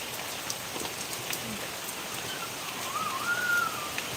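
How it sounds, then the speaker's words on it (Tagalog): A continuous rain shower in Bicol hisses on the surfaces close by at an even level, dotted with scattered droplet taps and a faint, wavering tone in the background. "Nasaan na si kami? Ulan pala."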